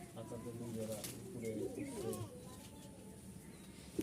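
Caged breeding pigeons, including Danish hens, coo in soft throaty bursts near the start while someone talks over them, then the cooing fades under quieter background noise.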